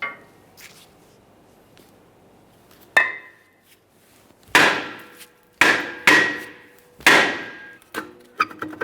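A hammer taps on a rear brake rotor of a 2007-2017 Jeep Wrangler, with one sharp metallic strike followed by a cluster of five ringing hits, close and clear against a quiet background.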